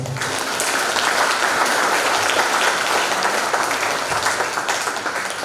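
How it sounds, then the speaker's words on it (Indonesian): An audience applauds after a presentation on writing community service program reports. Dense, even clapping holds steady and loud for the full stretch, with no voices standing out. "Mari beri tepuk tangan dulu."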